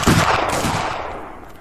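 Musket gunfire from the Arma 3 Napoleonic mod erupts as a loud, close volley blast that rolls out and fades over about a second and a half, with no speech over it.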